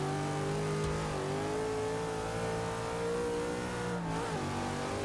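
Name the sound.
race car engine revving in Forza video game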